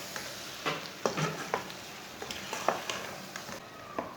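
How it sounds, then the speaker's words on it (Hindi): A spoon scrapes and knocks through arbi (taro root) curry in a pot after lemon juice goes in, giving a series of light, irregular taps and scrapes over a soft simmering hiss, with no voices. "अच्छी तरह मिक्स कर लेंगे।"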